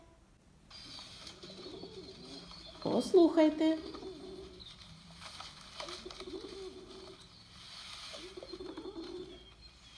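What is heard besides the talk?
pigeons cooing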